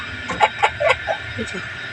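Several chickens cluck in short, uneven bursts nearby, a handful of quick calls spread over two seconds against a faint background hum.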